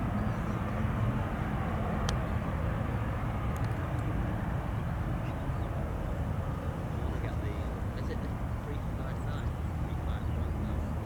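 A Qatar Airways Boeing 777-3DZ ER rolls for takeoff at Doha, a continuous broad engine roar filling the cabin at steady loudness throughout, with faint intermittent clicks and murmurs beneath.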